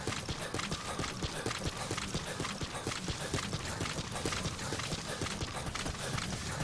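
Snake's running footsteps on a rough mountainside in Metal Gear Solid V: The Phantom Pain come as a fast, steady patter of close, even steps with no talk.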